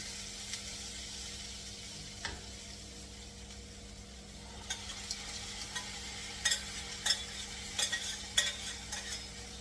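Cooked mixed dal being stirred into a sizzling frying masala in a pan, with scraping strokes and soft frying crackle, growing busier and louder toward the end, with no voices.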